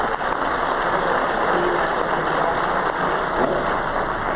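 A packed hall at the NH GOP 2020 annual meeting keeps up sustained, even clapping for two congressional candidates, a continuous roar of many hands with no talk over it.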